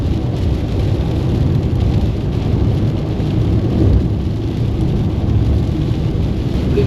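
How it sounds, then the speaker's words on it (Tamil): Heavy rain pours steadily near Karpagam College, a dense, even roar of downpour lasting several seconds with no breaks and no voices. "நல்லா பட்டையான மழை பெய்யுது."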